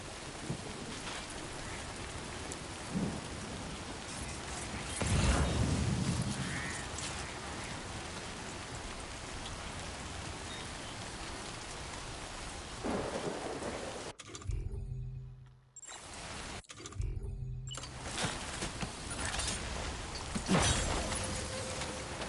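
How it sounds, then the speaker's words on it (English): Steady rain pours in Death Stranding 2, with low rumbles of thunder rolling in the distance, a constant wash of drops broken by brief gaps. "because it's raining so much"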